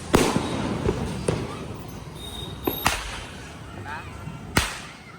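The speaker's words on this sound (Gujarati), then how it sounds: "હવે છે ને મેં હાથ બોમ્બ બતાવશું કેવું થાય છે તે તમે જોજો" Hand bomb firecrackers burst during Diwali celebrations, several sharp loud cracks at irregular intervals, one heavy blast near the end, with faint outdoor background noise between them.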